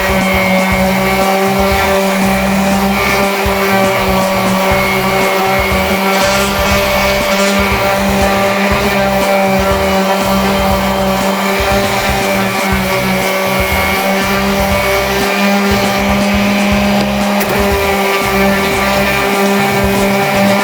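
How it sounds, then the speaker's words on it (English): A power sander works on small wooden beer flight parts, a loud, steady motor whine with a constant tone and a rough buzzing texture underneath that runs without pause. "just want to sand this."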